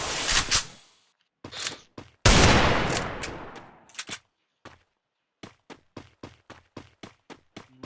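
Gunfire rattles through a Free Fire 1v1 custom match: loud sustained bursts open the fight, then a sharp string of evenly spaced single shots cracks out, each one clean and separated by short silences.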